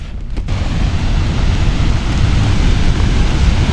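Loud, steady roar of a waterfall in central Vietnam, rushing water dense and close, continuing without a break.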